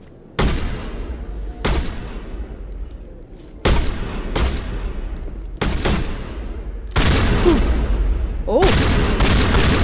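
Gunfire from a regular gun in the Mass Effect video game sounds as a series of loud, sharp blasts spaced a second or two apart, each followed by a rumbling tail; a player briefly exclaims once.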